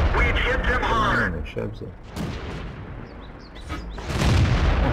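Tank cannon fire from a StuG III in World of Tanks: heavy, booming shots with a broad blast land under steady talk from a player commenting over the battle.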